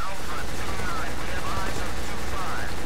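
Dense automatic gunfire roars from the video game Black on PS2, loud continuous bursts that blur into a harsh wall of shots.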